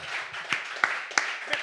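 A small studio audience on a French comedy show applauds, a soft, even patter of clapping with a few sharper individual claps standing out.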